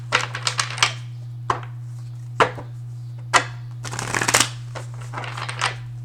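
Tarot cards shuffled by hand close up, a run of quick riffles and soft slaps in uneven bursts over a constant low electrical hum.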